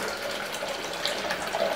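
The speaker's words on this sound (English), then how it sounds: "then I can continue filling this up with more water" Water runs steadily from a tap into a sink in a printmaking studio, a continuous splashing gush at moderate level with no talk.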